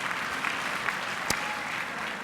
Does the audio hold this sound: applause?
yes